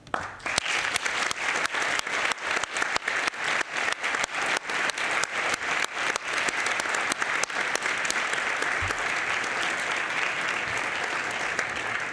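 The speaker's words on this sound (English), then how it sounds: "I would like to give them a special round of applause" A crowd applauds at the closing session of a Model United Nations conference in New York, a long, steady round of dense clapping that stays loud and even throughout, with no talk over it.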